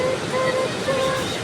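Sea waves washing at a beach, a steady broadband wash of surf with some wind across the whole stretch, fairly close and continuous, with faint voices in the background.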